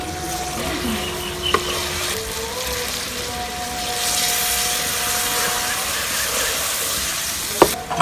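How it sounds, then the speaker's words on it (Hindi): Moong dal frying in oil with light splashes of water gives a steady, close sizzle and hiss, with faint stirring scrapes and a couple of sharp clinks. "दाल को अच्छी तरह भूनेंगे पानी का हल्का हल्का छमका लगाकर।"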